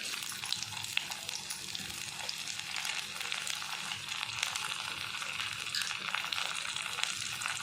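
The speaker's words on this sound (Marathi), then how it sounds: "अगदी थोडं त्याच्यामध्ये मी जिरं टाकून घेणार आहे" Cumin and ginger dropped into hot oil in a pot for vegetable pulao, giving a steady, fairly quiet sizzle and crackle that runs evenly throughout with no talking.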